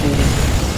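An ion cannon strike in Command and Conquer 3 Tiberium Wars lands as a loud, dense blast with a deep booming rumble that sustains for under a second.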